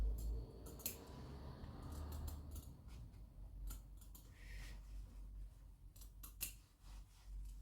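Scissors cut blouse fabric in a series of quiet, close snips with soft handling noises between them and no talk.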